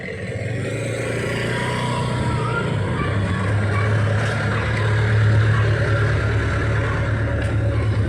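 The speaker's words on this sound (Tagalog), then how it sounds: "Yung motor na mabilis." A fast motorcycle rides along with a continuous, moderately loud engine drone that rises slightly mid-ride, accompanied by wind and road noise and a little background chatter.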